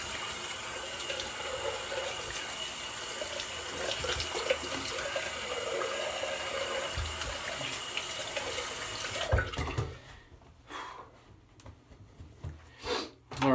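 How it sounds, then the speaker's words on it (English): A bathroom tap runs for a cold water rinse after a shave, a steady close gush of water that stops abruptly, followed by quieter splashing and face-rinsing sounds. "go for the cold water rinse and the final thoughts in the post shave here"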